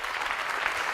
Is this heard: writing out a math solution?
no